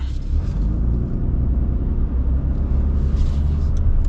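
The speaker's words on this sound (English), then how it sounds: "Gotta love the sound of the Cummins" The Cummins diesel engine of a 2025 Ram Rebel HD truck gives a deep, continuous low rumble, loud and close, with no talk over it.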